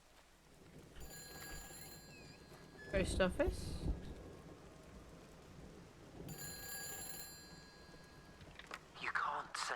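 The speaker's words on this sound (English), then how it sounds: "Okay, all of a sudden started raining." Rain and rolling thunder in the video game Everybody's Gone to Rapture, a soft continuous rain bed with a louder rumbling burst of thunder partway through and another swell later, while a voice speaks briefly.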